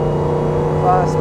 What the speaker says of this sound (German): Tolles Auto, der läuft schön.